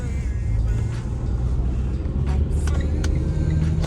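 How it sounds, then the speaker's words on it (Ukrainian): Inside a Renault Koleos 2.0 dCi with automatic transmission, a steady diesel drone and road hum carry on under light acceleration, smooth and even without obvious gear-change breaks. "Такий розгін. Все плавно переключає."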